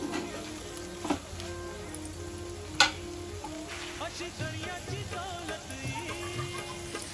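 Dried prawns sizzle steadily in a hot pan as coriander goes in, a continuous close frying hiss broken by a few sharp stirring clicks.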